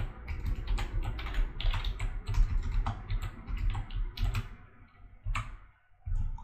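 Rapid keystrokes on a computer keyboard while entering a command in AutoCAD, a close, busy run of clicks with brief pauses, heard alone.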